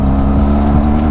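A Benelli TRK502X motorcycle engine is held at full throttle on a test ride, a loud, close, continuous low-pitched drone that stays steady throughout the short moment.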